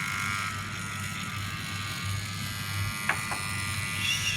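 A Wahl hair clipper with a faulty, annoyingly loud running noise gives a steady, close, harsh electric buzz without a break, with a couple of faint clicks near the end.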